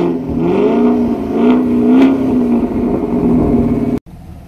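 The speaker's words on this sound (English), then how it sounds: "Let's hear that exhaust rev a few times." A Chevrolet Camaro SS 50th Anniversary Indy Pace Car revs its engine through the exhaust, a loud, close, steady drone that swells twice before cutting off abruptly near the end.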